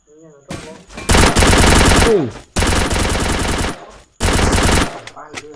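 Rapid automatic gunfire rings out in the Free Fire video game in three long, loud bursts separated by short pauses, with a voice talking faintly beneath.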